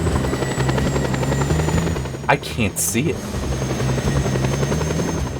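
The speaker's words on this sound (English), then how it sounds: "That was definitely a helicopter that was shooting." Helicopter in the video game Just Cause 2, a steady loud rotor drone running throughout with brief sharp bursts midway, under a man's short spoken remark.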